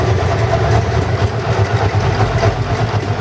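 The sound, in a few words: motorcycle engine stumbling, running on one cylinder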